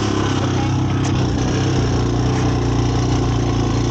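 A Honda 250ex ATV engine drops to a lower gear and slows while still in gear, with a steady, loud, close drone and no talking.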